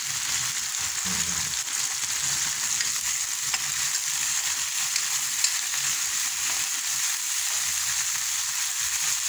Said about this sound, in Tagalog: lalagay natin yung sahog natin sa ating alokbate, sardinas.